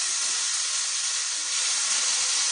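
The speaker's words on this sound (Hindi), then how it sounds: "थोड़ा सा बटर तवे पे डालूंगी और साथ ही मैं ये भाजी डाल दूंगी तवे पे" Butter and vegetable bhaji sizzle on a hot tawa griddle for pav bhaji, producing a steady, close hiss that holds at an even level without any talk.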